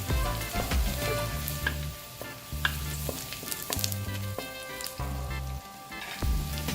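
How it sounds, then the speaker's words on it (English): Garlic sizzles hard in hot oil in a wok, a loud continuous frying hiss broken by scraping stirs and the clatter of a spatula, with no talking. "Adding the garlic now. Let's fry the garlic for half a minute."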